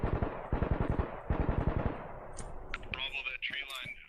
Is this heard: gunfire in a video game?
yes